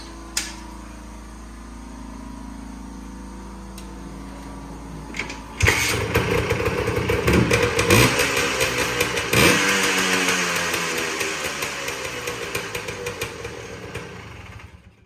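Honda three-wheeler engine starting abruptly after a low hum, then running loud and close with a rough, pulsing idle and slight revs.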